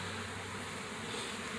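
A dense slab of honeybees swarms over a hive frame, a steady close buzzing hum that fills the whole moment without pause, with no voices over it.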